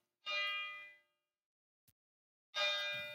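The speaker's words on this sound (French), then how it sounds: "Mais c'est beau, ça, ces cloches." Two separate church bell strikes ring out with rich metallic tones, each fading over a second, separated by silence and a faint tap.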